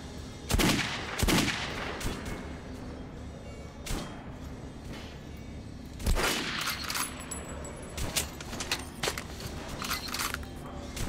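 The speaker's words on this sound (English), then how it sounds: "It's like the automatic shotgun." An automatic shotgun fires in the video game Metro Last Light: several loud, sharp blasts spaced irregularly over a background of quieter clatter and ambience.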